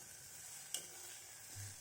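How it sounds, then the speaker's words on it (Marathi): Dried red chillies and garlic roasting in a pan for Kolhapuri thecha, a faint, even sizzle with one small crackle midway and a light stir near the end. "याप्रमाणे आपला मिरची आणि लसूण भाजल्या गेला पाहिजे"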